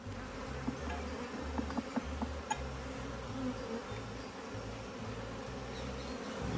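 Honeybees hum steadily in a low, droning buzz, close by and fairly quiet, with occasional faint clicks and a wavering pitch.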